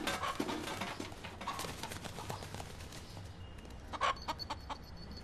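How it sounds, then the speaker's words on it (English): A pet rooster clucks in short, scattered bursts that come closer and louder near the end, with faint background noise between calls. "I also have a rooster"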